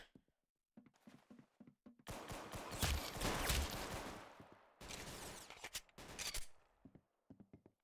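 Rapid bursts of gunfire from the Roblox shooter game Arsenal during a one-on-one match, with sporadic shots at first, then two dense loud volleys separated by a short pause, tapering to scattered single shots.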